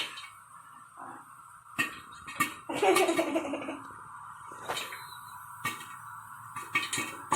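Popcorn pops in a pot, sharp scattered pops bursting out at irregular intervals, with a short flurry of clattering in the middle and quiet hiss between.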